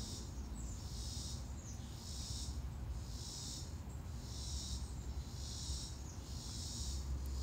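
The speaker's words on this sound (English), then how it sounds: "I think it's a cicada. It's very loud." Loud pulsing cicada buzzing in repeated surges, each lasting under a second, over a steady outdoor hum with no voices.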